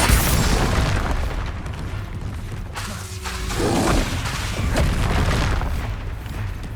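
Repeated spell explosions in Hogwarts Legacy combat thud and crackle through a busy fight, loud booming hits and whooshing casts rolling together with brief lulls between bursts.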